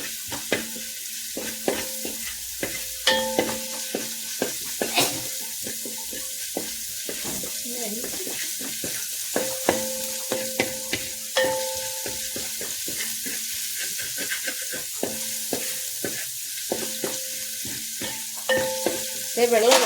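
Onions fry in a pan, stirred steadily: a continuous sizzle is broken by repeated scraping strokes, with a faint tonal background and no clear talking.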